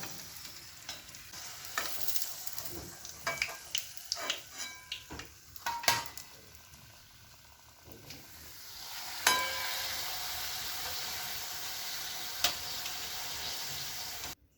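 Chorafali, a crisp puffed Gujarati snack dough, frying in hot oil with a steady sizzle and bubbling, broken by occasional stirring clinks and scrapes from a spoon in the pan, close and alone without voices.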